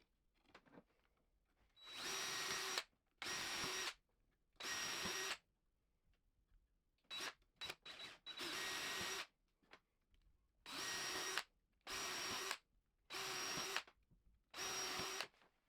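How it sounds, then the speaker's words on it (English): A power drill whirs while pre-drilling a wooden offcut for a 2x4 bench in about ten separate bursts, each lasting a second or so, with short quiet gaps and a cluster of quick pulses midway. "pre-drilling this offcut, then gluing it onto the bench top, screwing onto the sides."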